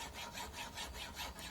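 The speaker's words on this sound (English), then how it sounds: "And the core only looks like an aluminium core, but it takes some sawing." Saw cutting through a brass rod with a hard, aluminium-looking core, heard as a faint, steady series of back-and-forth strokes in an even rhythm, about six passes.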